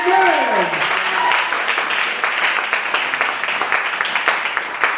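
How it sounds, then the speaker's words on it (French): A church congregation applauds for Jesus, with a loud burst of clapping and cheering that follows a preacher's rising call and then carries on steadily under his continued speech in French. "Est-ce que nous pouvons acclamer pour Jésus?"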